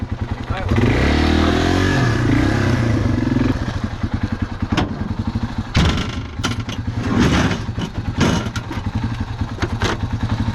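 A Yamaha dual sport motorcycle, an XT225 or DT50, runs on a trail outing near Belfair, Washington, its engine throbbing steadily and close by, with a few revs and clatter, while people talk over it.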